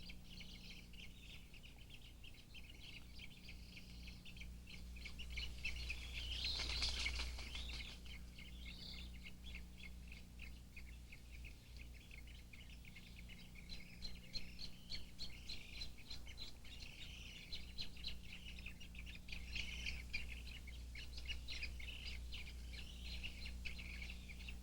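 Spoonbill colony hidden in Everglades mangroves, a faint distant chorus of high chirps and squabbling calls running continuously with a low background hum.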